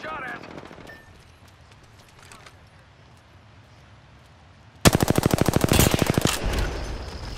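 Rapid automatic gunfire from the Apex Legends battle royale game, a loud sustained burst of evenly spaced shots breaking in after a quieter stretch of background game noise.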